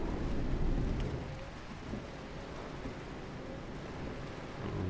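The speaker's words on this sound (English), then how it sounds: "Ooh, there's lightning as well." Steady rain and a thunderstorm roar in Euro Truck Simulator 2, a dense, wide hiss with a low rumble of thunder that is strongest at the start, and no talking.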